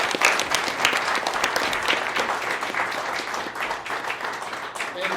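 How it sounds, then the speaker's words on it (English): An audience applauds a Bates Bobcats team's players with a sustained round of brisk clapping, fairly close and steady, rising slightly at the start and holding throughout. "A huge round of applause for all the players."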